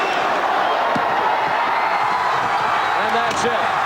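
A packed arena crowd in Amherst roars and whoops steadily as the Minutemen win their third straight Atlantic 10 Conference Tournament basketball title, dense continuous cheering with a commentator's voice over it.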